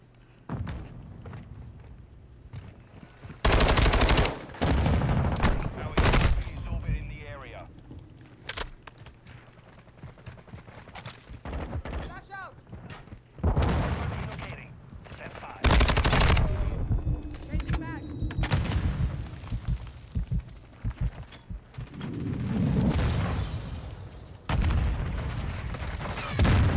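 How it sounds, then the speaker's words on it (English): Modern Warfare 2 combat includes a thrown flash grenade and gunfire: repeated loud bursts of shots and booms in irregular clusters, with quieter gaps between them and occasional voices. "Throwing flash grenade."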